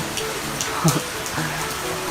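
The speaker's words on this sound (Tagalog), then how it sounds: "tag-ulan kasi ngayon, umuulan, and baka di nyo marinig rin" Rain falls outside during the rainy season where a motorcycle sits parked, a steady soft hiss with a few brief louder knocks and taps close by.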